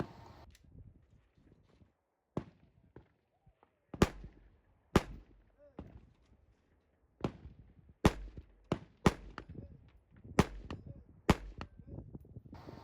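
Sharp rifle shots crack at hanging steel targets on an outdoor shooting course, a dozen or so loud reports spaced irregularly with brief pauses and faint ringing between them.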